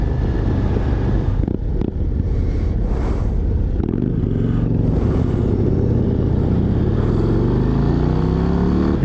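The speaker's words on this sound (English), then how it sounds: "It's got that Harley rumble you love to see, you love to hear and feel." A 2024 Harley-Davidson CVO Road Glide ST is ridden at speed, with a deep, continuous engine rumble heard close up. Wind buffets the microphone, and the engine pitch rises as the bike accelerates through the gears.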